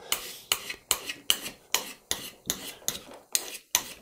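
A woodturning tool is honed on a sharpening paddle with about ten close, evenly spaced rasping strokes, each a sharp scrape that quickly fades, heard alone at a steady rhythm.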